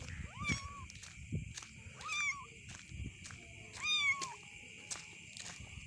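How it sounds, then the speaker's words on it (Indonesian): Small kittens meowing close by, three or four thin rising-and-falling cries spaced about two seconds apart over soft rustling. "Jaya opat ieu anak kucing."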